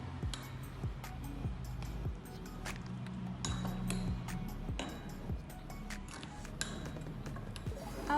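A soil sample stirred with distilled water in a glass, giving a run of light clinks and ticks of the stirrer against the glass, fairly close, with faint background noise and almost no talk.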